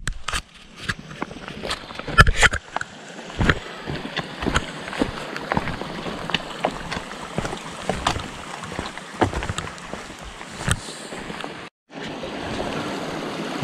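River water at an Appalachian Trail crossing in the Smoky Mountains flows under a series of sharp, irregular splashes and knocks close by, with a brief near-silent gap before the rushing resumes.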